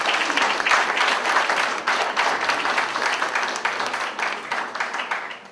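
An audience at a mayor's International Day of Peace event applauds in honor of veterans, a sustained, dense round of clapping from a fair-sized crowd that holds steady and tapers slightly at the end.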